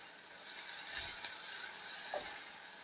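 A ground paste for a spinach and dal dish fries in a pan with a soft, low sizzle and a couple of faint stirring scrapes, quiet and close, no one speaking.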